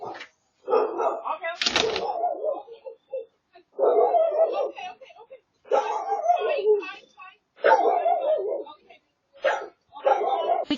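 Dogs bark repeatedly in short, loud volleys, with yips and whimpers, at a front door fitted with a Ring doorbell before Thanksgiving, the bursts separated by brief pauses.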